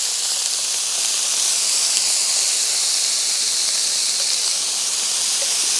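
About two pounds of stew beef browning in a hot pot, a steady, loud broadband sizzle with a hissy, steam-like wash that holds evenly throughout, close up and without talk.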